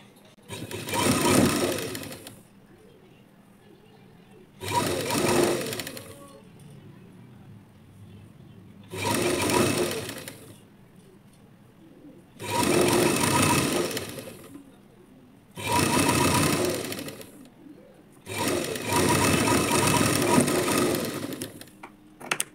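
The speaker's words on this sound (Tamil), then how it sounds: "இப்போ ஒரு தையல் போட்டாச்சு" Sewing machine stitching a lining blouse, running in six loud bursts of steady whirring separated by short pauses, close up, with no voices.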